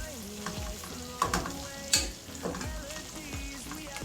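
Seasoning and chicken cook in a pot with a steady, quiet sizzle. Several sharp scraping stirs and clanks cut through, and two of them come as louder knocks near the middle.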